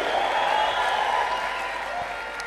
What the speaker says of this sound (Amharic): ጭብጨባ ለጌታ ያለው ሰው